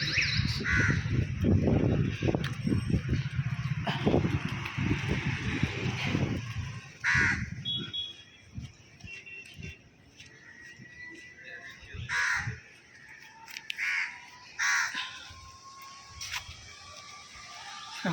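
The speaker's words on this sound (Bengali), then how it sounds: "সকালবেলায় সব কাকগুলো খাকা করছে।" Morning crows caw repeatedly near and far. Loud overlapping calls come early amid other noise, then sparser separate caws ring out over a quieter background.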